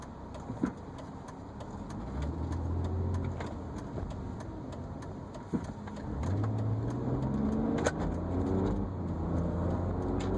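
A car engine rumbles at idle in traffic, rising in a couple of brief revs as vehicles pull away, with faint clicks and knocks over it.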